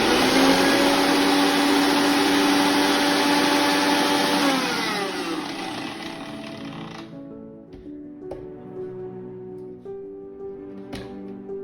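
Electric mixer grinder crushing coconut for rawa laddoo, a loud whining motor that drops in pitch and winds down midway, followed by quieter rattling and knocking.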